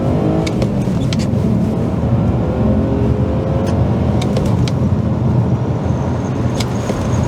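BMW E46 325ci engine pulling under acceleration from inside the cabin, a steady loud drone with rising tone and faint clicks, no talking.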